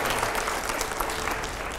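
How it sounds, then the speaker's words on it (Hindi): A studio audience at a panel discussion claps in a steady, dense round of applause, even and continuous with no pause. "जोरदार तालियां हो जाए।"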